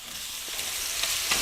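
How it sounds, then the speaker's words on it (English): Duck livers fry in a pan with a steady, close sizzle and crackle, small pops breaking through the continuous hiss, no voices. "Just while these livers are frying away for a minute,"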